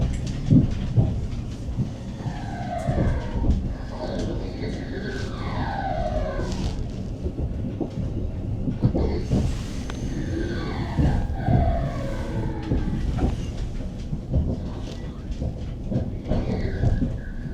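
A train runs along the Glasgow Central to Barrhead railway line, a steady rumble of wheels on track heard from on board, with a rising and falling electric motor whine throughout.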